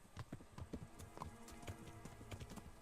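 Rhythmic clip-clop of a horse's hooves on a road while riding in the medieval video game Kingdom Come: Deliverance, steady repeated hoofbeats at moderate level with faint game ambience.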